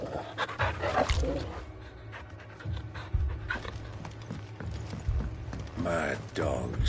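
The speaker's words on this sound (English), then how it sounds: "Mad dogs. A lot of them." Mad dogs in the Final Fantasy XVI video game pant and snarl in rough, repeated bursts amid creaking and clattering game noise, with speech mixed in at moments.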